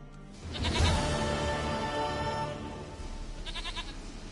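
A goat in The Witcher 3 gives a long, wavering bleat close by, followed by a shorter quavering bleat near the end.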